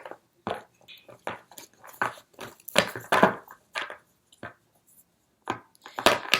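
Tarot cards being shuffled by hand give a series of crisp, close riffling and slapping bursts in an irregular rhythm, with short pauses between, and no voices over them.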